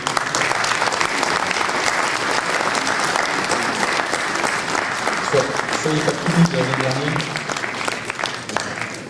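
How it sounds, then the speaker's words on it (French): Steady applause from an audience at a town New Year's greetings ceremony in Veigné, clapping for census workers, with someone speaking over it in French. "vous pouvez les applaudir"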